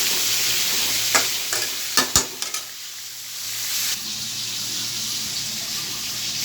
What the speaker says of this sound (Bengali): এদিকে মাছগুলা ভাজা হোক